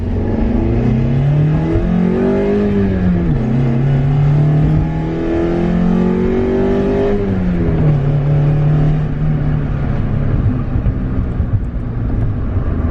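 A Mazda Miata engine running MegaSquirt engine management with AFM deleted revs hard under full throttle, pitch climbing through a gear, dropping at a shift, then rising again, loud and close.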